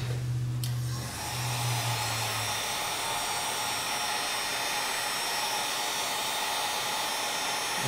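Heat gun blowing steadily to shrink heat-shrink tubing over a crimped wire on a 12-volt relay setup, a loud continuous airy whoosh with a brief low hum at the start, running alone throughout.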